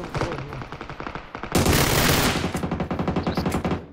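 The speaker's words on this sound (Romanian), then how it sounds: "eu aud că trage acolo" Gunfire in the video game PUBG: a loud, rapid burst of automatic shots with a dense fusillade in the middle, followed by a steady string of evenly spaced cracks.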